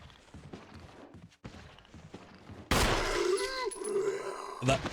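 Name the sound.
gunshot headshot on zombie in Resident Evil video game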